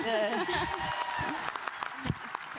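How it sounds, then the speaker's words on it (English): Audience applause at a Star Wars convention panel in Chicago. The clapping is moderate and mixed with a speaker's voice and chatter from the panel over a few seconds. "Round of applause for Philip."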